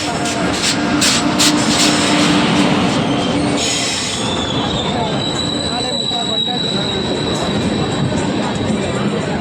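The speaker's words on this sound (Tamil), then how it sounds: "இங்கே Kopargaon railway station, Karnataka express" The Karnataka Express rolls loudly through Kopargaon railway station with steady rumbling, clattering wheels and a high metallic squeal, while voices murmur faintly underneath.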